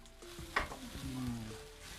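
Garlic sizzles in olive oil in a pan, with a soft, steady frying hiss and a light stir or clink close by.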